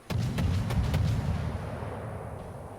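A ship's gun volley in a naval video game, with the light cruiser Belfast at tier 8, booms as a heavy rumbling salvo with several sharp reports that fade into a lingering low roar.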